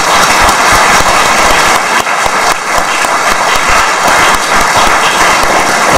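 Dense, sustained applause from many people at a university staff meeting with the rector, loud and continuous throughout with no pauses.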